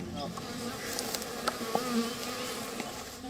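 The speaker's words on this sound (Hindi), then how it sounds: "सीधे वहीं लिए चलते हैं जहां मधुमक्खियों का परिवार शहद बना रहा है" Honey bees swarm around their hive, a dense, close buzzing that holds steady throughout, with individual bees droning past the listener.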